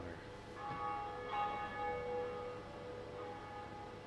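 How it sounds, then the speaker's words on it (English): A church bell tower rings in the Dark Souls video game, struck once and leaving a long, sustained metallic tone that hangs and slowly fades, with a second strike blending into the lingering ring. "pull this lever, and you have rung your first bell tower"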